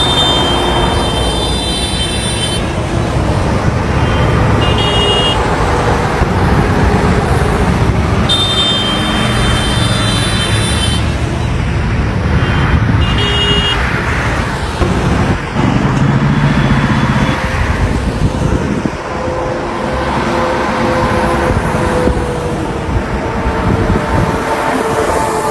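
Heavy trucks passing on a highway, a loud continuous rumble and roar with swelling passes and tonal whines, steady throughout with no talk.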